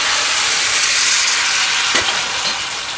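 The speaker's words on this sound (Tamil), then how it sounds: "இதில் கருப்பட்டியை வடித்து ஊற்றிடலாம்." Strained palm jaggery syrup poured into a fenugreek mixture, a steady hissing liquid stream with a soft splash or two near the end.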